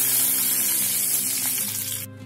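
Curry leaves crackle and sizzle in hot oil for a tadka over urad dal, a loud, steady fry that cuts off abruptly near the end.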